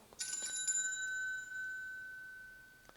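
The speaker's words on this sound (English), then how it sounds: "this is the long looping sound for the first bell" A Trek BellBeats electronic bike bell rings with a few quick chimes, then holds one long, steady, bright tone that slowly fades, ending with a short blip.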